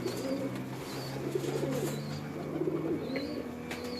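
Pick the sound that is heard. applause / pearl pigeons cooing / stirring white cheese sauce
pearl pigeons cooing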